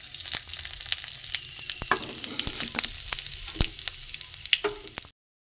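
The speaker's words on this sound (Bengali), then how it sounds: "গোটা জিরে আছে, এটা আমি দিয়ে দেবো।" Whole cumin, dried red chilies, bay leaves, cardamom and whole garam masala spit and pop in hot mustard oil, a close, busy sizzle dotted with sharp crackles before it cuts off abruptly.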